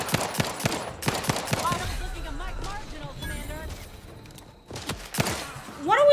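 Gunfire rings out in The Outer Worlds 2, several sharp bursts of shots at the start and again near the end, with a voice talking throughout.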